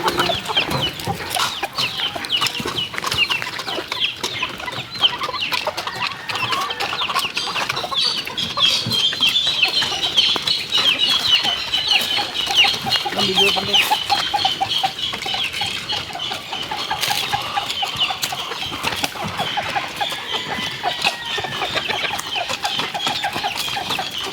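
Free-range chickens and young stag roosters cluck and call continuously at feeding time, a busy, dense flock chorus heard close and fairly loud throughout.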